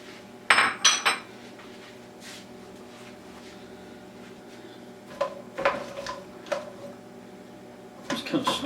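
A spoon stirs onions in a pot for cabbage, potato and ham soup, giving a few sharp metallic clanks and scrapes in short clusters near the start, middle and end, with quiet room tone between.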